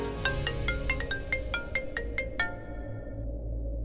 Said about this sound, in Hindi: चाचू मैं आपको कब से फोन कर रही हूँ, आप फोन क्यों नहीं उठा रहे?